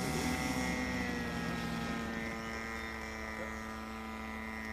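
Piper Cub airplane flying overhead, a steady propeller-engine drone with a buzzing harmonic tone that fades slightly as it passes at moderate distance, faint and continuous.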